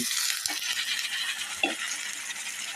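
Eggplant and potato are stir-fried in a pan over medium heat, giving a steady sizzle with a few soft scrapes and knocks of the spatula and no voices.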